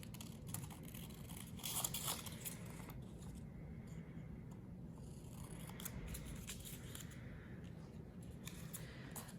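Scissors snip through paper during a kindergarten art lesson making rainbow fish drawings, with repeated crisp cutting and rustling close by over a steady low background hum.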